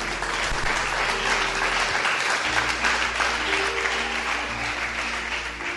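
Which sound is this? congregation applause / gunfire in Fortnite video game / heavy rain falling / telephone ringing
congregation applause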